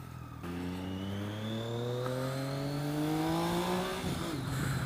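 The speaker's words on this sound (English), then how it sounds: "it's got that triple cylinder sound" A Triumph Street Triple 675R three-cylinder motorcycle engine revving up steadily as the bike accelerates, rising in pitch for about three and a half seconds before easing off, loud and close with no talking.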